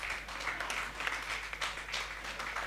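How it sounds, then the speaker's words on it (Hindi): An audience at a Hindi poetry recital bursts into loud, steady applause, with dense clapping sustained throughout under a low electrical hum. "जोरदार तालियां आपकी, जोरदार तालियां"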